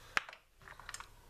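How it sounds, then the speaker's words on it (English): Small scissors snip off the tag end of thread wrapped on a fishing rod guide. One sharp close click comes first, then a few lighter clicks follow. "I take my little scissors and I cut that off pretty close."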